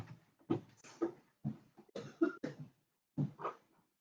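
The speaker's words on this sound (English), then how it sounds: "I'm getting a bit of a cough here" A person coughs and clears their throat several times, close to the listener, in short separate bursts with quiet pauses between them.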